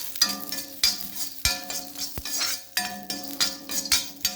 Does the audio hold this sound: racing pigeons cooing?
no